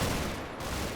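A short burst of Bren light machine gun fire in the Combat Mission: Battle for Normandy war game, a loud, dense rattle of rapid shots filling the whole second.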